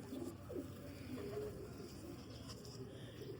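A purebred golden pigeon cooing softly in low, repeated murmurs against a steady background hiss, fairly faint and unaccompanied.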